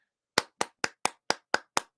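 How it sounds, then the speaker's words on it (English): Eight sharp, evenly spaced hand claps from a single person, close and dry, each one isolated against silence in a slow, steady rhythm. "can everybody give Mitch McConnell a round of applause for staying awake during a sentence?"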